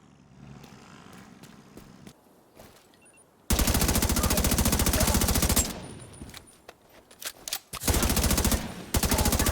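Sustained automatic gunfire in The Division 2, a loud dense burst of rapid shots that starts abruptly and runs for a couple of seconds, then further bursts and single shots follow after a short lull.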